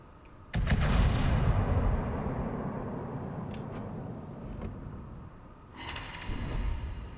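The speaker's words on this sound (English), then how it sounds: "that last salvo wasn't really aimed at that well" A battleship firing a gun salvo in World of Warships, aboard the Agincourt: a heavy, booming burst of cannon fire that rolls into a long, rumbling tail, followed by a second, softer rumble, with no talk.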